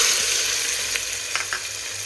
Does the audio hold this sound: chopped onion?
yes